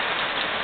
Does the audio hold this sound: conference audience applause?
no